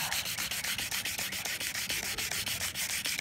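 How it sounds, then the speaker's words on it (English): Scratched vinyl window frame being sanded and polished, a steady rhythmic rubbing with regular back-and-forth strokes about six per second, close and fairly loud with no talk. "So then it's just a matter of polishing."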